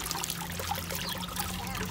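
Water poured over canna lily bulbs to soak them, a continuous trickling and splashing stream, close and steady throughout with a low hum beneath.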